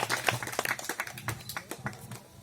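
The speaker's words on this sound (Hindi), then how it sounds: "जोरदार तालियां बजाइए" A small audience at a village gathering claps for a couple of seconds, an uneven patter of hand claps at moderate distance.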